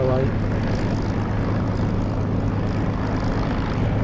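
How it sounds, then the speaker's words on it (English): Propeller aircraft in the DCS flight simulator game running its engine for takeoff, a loud, steady droning hum with constant tone throughout, heard alone without talk. "Let's go centre runway and take off."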